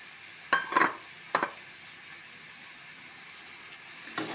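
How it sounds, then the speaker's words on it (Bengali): Fried vegetables being stirred into spinach curry in a pan, a soft background sizzle broken by a few sharp scraping and clinking spoon strokes, no talk. "ভালো করে নাড়াচাড়া দিয়ে দেবো"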